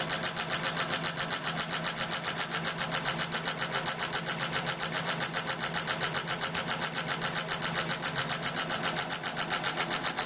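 Electric motor on an oil film burn-down test rig, running at a fairly high speed setting, producing a steady, fast, pulsing mechanical drone that holds even and close for about ten seconds.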